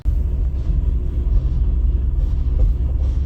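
A vehicle engine runs at a steady idle, a close, loud low rumble that holds constant throughout with slight pulsing and no speech.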